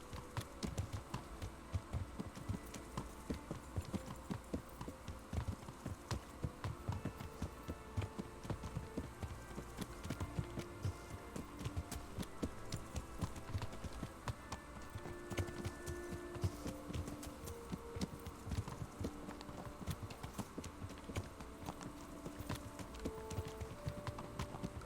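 Steady, rhythmic clip-clop of horse hooves trotting along a road in the video game Kingdom Come: Deliverance, continuous, close and even, over a faint low background hum.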